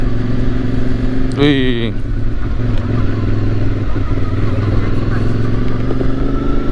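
A CFMOTO 450MT adventure motorcycle being ridden, its engine droning steadily close by, with a short vocal exclamation over it early on.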